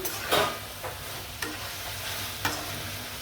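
Bitter gourd and shol fish curry with tomato sautéing in a pan, a soft continuous sizzle broken by several distinct stirring scrapes spaced about a second apart, with no talking.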